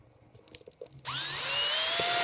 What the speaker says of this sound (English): Okay, time to drill.